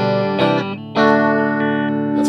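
An electric guitar through a Mooer Black Truck pedal, clean setting, strums a few chords that ring and sustain, with a bright, shimmering tone, played close and fairly loud.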